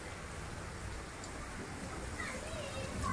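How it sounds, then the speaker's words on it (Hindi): Heavy rain pours steadily outdoors during the Teej season, a dense, even hiss of falling water that runs throughout without a break, with faint voices in the background. "पीछे पड़ रही है हमारे पीछे बहुत तेज बारिश"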